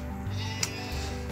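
Boer goats bleat in a barn bedded with straw, one short, close, loud bleat filling the moment with a wavering nasal tone and no voices over it.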